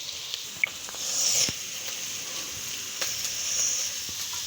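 Bitter gourd bhaji frying in a pan gives off a soft, steady sizzle with faint pops and crackles, quiet and close, with no talking over it.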